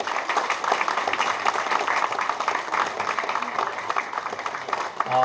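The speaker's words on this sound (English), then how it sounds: "one more time a round of applause to welcome him" An audience applauds to welcome a guest at a Vietnamese political gathering, with sustained dense clapping from a large crowd that continues steadily throughout without letting up.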